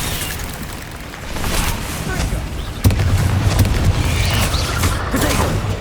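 A heavy explosion from the Confringo fire spell in Hogwarts Legacy lands with a sudden booming thump amid a loud, continuous roar of combat effects, while a voice is also heard.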